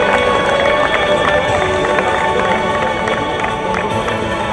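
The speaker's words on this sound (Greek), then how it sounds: "Ένα δυνατό χειροκρότημα στον Νέστορα" An audience at a 2007 amateur football league award ceremony gives the league's top scorer a loud, close round of applause, with cheering mixed into steady clapping that carries on throughout.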